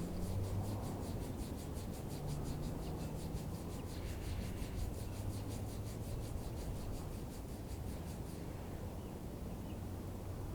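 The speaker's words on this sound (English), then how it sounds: "rubbing up and down the ears 24 times." Index and middle fingers rubbing up and down either side of the ears during a qigong face massage, a soft, steady, close-up rubbing that repeats in a continuous rhythm with no talk.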